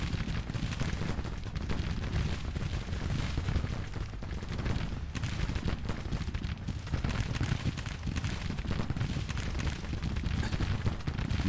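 Sustained battlefield din of massed musket volleys and artillery fire in the Civil War strategy game Grand Tactician, a dense continuous roar of overlapping shots and booms with no clear breaks, steady and loud throughout.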